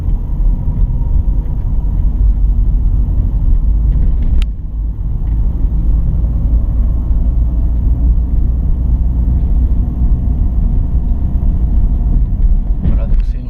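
Car driving slowly over a deformed, bumpy, narrow road near Gex and Vesancy: a constant loud low engine and road rumble inside the cabin, with a single sharp knock partway through and a short rise in rumble near the end.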